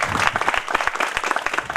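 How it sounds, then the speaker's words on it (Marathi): A school program audience bursting into applause, a brief, loud, close burst of many hands clapping in a rapid, irregular patter. "त्यांच्यासाठी सुद्धा एकदा परत जोरदार टाळ्या होऊन द्याव्या"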